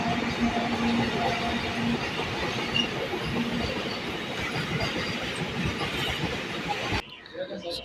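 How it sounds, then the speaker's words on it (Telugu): A train rolls along a railway line with a steady, continuous rumble and rattle of wagons at close range, holding level for about seven seconds before cutting off abruptly to quieter background. "ట్రైన్ వస్తుంది"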